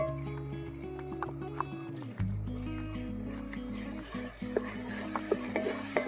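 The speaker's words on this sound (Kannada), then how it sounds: "ಈ ಹಸಿ ಸ್ಮೆಲ್ ಹೋಗೋವರೆಗೂ ಚೆನ್ನಾಗಿ ಹುರ್ಕೊಳ್ಬೇಕು" Ginger garlic paste frying in a pan over sautéed onions for a mutton liver fry, with a steady sizzle and low hum carrying through and a few scraping stirs, close and fairly loud, no talking.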